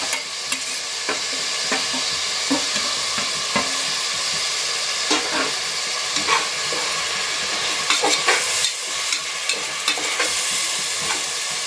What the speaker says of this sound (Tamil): எல்லாம் போட்டு கலந்து வதக்கினா அந்த மிளகா வந்து எண்ணெயில் பிரிஞ்சு வரும்